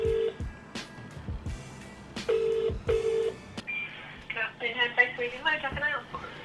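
A quick series of touch-tone keypad beeps dials a number, broken by short pauses, followed by a run of warbling electronic tones.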